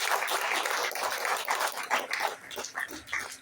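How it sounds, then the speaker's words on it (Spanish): Church congregation at an afternoon service claps, an uneven burst of applause with individual claps audible, moderately loud and close, swelling and easing in waves. "Podemos darle un fuerte aplauso al Señor esta tarde"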